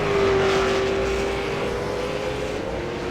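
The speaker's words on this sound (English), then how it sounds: "Phil Sell's revs are rising" A race car engine idling and revving in the pits during a simulated V8 Supercars race at Circuit de Spa-Francorchamps, a steady loud drone with a rising tone, alone without talk.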